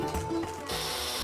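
A kitchen grinder grinds Italian bread with thyme in a short burst, a close mechanical whirring and ratcheting that rises into a loud, rushing buzz partway through.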